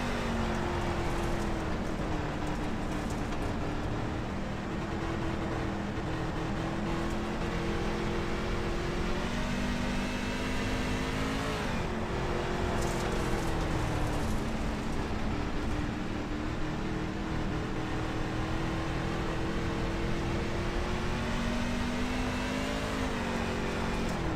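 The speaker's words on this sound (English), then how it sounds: "You're going to hear him playing with that throttle all the way around in the corner." A twisted chassis race truck engine on a dirt oval at Knoxville Raceway roars continuously nearby, its pitch rising and dipping in repeated waves as the throttle is feathered through a corner, loud and unbroken with no voices.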